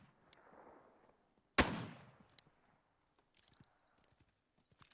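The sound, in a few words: shotgun gunfire in a video game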